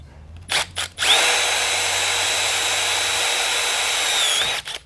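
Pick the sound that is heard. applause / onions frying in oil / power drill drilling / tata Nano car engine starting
power drill drilling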